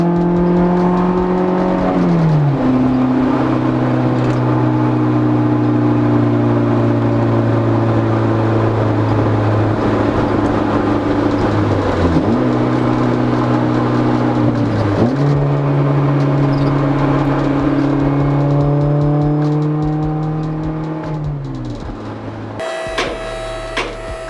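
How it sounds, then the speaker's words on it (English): A Honda S2000 with an aftermarket exhaust drones loudly inside the cabin while cruising under 5,000 RPM, a steady engine tone with a few shifts in pitch as the speed changes, continuous and close throughout. "you can hear how much noise gets into the cabin with this exhaust"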